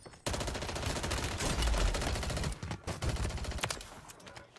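Rapid gunfire from a player in Call of Duty on Rebirth Island: loud, close bursts of repeated shots with short gaps, continuing almost the whole time, with no talk over it.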